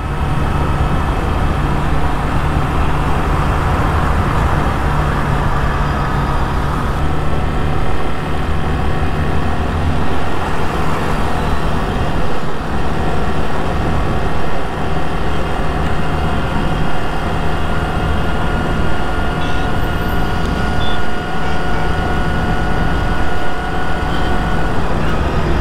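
A 2023 Honda Shine 100 motorcycle riding along a road: a continuous, even engine drone mixed with wind and road rumble, loud and unbroken, with no talking.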